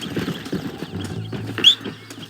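A horse's hooves clip-clop on the ground in the Western video game Red Dead Redemption, a close, uneven run of hoofbeats with a brief bird chirp partway through.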